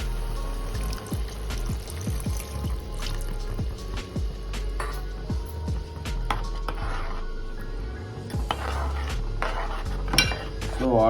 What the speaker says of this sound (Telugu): సో గ్రేవీ కోసం కొంచెం వాటర్ యాడ్ చేస్తున్నాను.